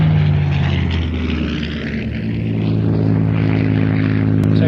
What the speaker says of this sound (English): Spitfire. That sounds good, doesn't it?